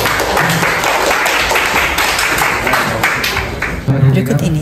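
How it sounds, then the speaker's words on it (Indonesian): Seminar audience applauding during a trading-education session held at PT EWF Semarang, a dense steady clapping that fills most of the clip before cutting off, with a voice speaking underneath near the end. "Tepuk tangan untuk konsumen"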